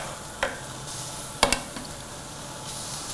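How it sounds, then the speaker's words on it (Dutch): Meat searing in olive oil on a water grill, a soft steady sizzle with a few brief crackling pops, fairly close, with no talking. "Zo, vlees lekker in de olie."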